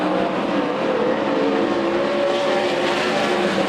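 360 sprint cars roar around a dirt speedway in a dense, continuous engine drone with shifting pitch lines, loud and steady throughout with no voices.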